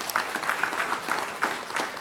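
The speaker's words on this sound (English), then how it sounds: "Can we have a round of applause for Chairman Sir?" An audience at a bank's quiz finale gives a round of applause for the chairman, a short burst of dense clapping from a room full of people, with no voices over it.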